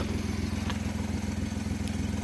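A small three-cylinder engine of a 2002 Opel Corsa C idling nearby with a steady, slightly uneven low throb and faint rattling, continuous throughout.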